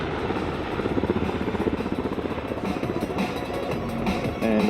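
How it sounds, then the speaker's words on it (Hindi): Lockheed Martin MH-60R Romeo multi-role naval helicopter: a loud, steady rotor thump with a dense engine roar, continuous and close. "यह मल्टी रोल हेलीकॉप्टर है जो हर मौसम में दिन के किसी भी वक्त हमला करने में"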